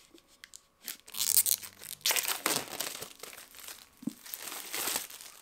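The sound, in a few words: opening package with a letter opener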